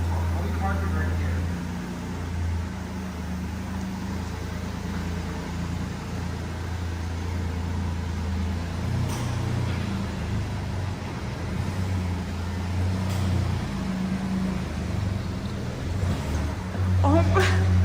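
A Fiat Panda hybrid with manual transmission creeps uphill on idle torque alone, its low steady engine drone and hum running close and continuous beneath faint background noise, with a brief sharper sound near the end.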